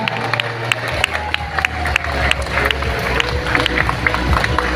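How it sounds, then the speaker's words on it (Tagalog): A school crowd applauds at the opening of a covered floor at Mabuhay City Elementary School, with a steady wash of clapping and scattered cheers, some voices in the mix. "Isang pasigabong palakpak"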